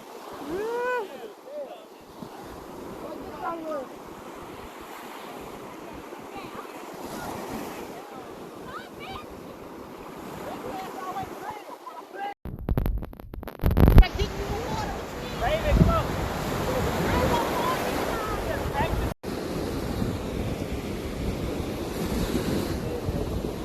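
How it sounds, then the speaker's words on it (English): Ocean waves break and wash on a Miami beach, a broad steady surf roar with heavy wind noise on the microphone, building louder in the second half while people's voices come and go faintly. "the white waves right there"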